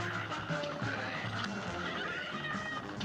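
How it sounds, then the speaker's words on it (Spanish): Cartoonish horse neigh from the run-and-gun game Cuphead, a whinnying call over busy game music and effects, with faint hoof clip-clop mixed in. "De la nada un caballito."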